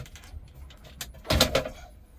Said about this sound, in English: It seems like it's hung up on the driver's side of the glove box door.